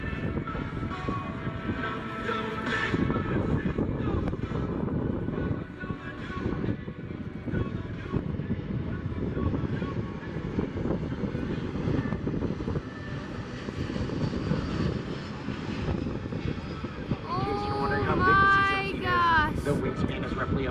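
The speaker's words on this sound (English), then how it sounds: "As the aircraft approaches from your right, notice the upturned wingtips or winglets" A large airliner with upturned winglets, a wingspan of about 170 feet and a weight of over 580,000 pounds flies past at the Oshkosh AirVenture air show, its loud, steady jet roar sustained throughout under a commentator's talk.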